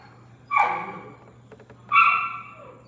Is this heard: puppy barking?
yes